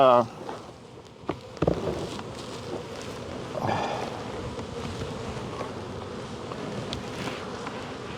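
Honey bees swarm around an opened hive during a colony split, a steady faint buzzing drone that runs throughout with a few brief handling knocks and light rustles near the hive.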